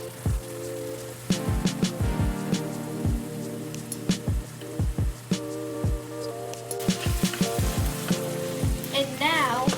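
Ground meat for lasagna sizzles steadily in a hot pan while a utensil breaks it up with sharp, irregular scraping taps, close and moderately loud.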